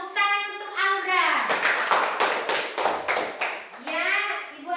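In a classroom, children clap their hands in a burst of about eight loud, rhythmic claps, with a voice speaking just before and after.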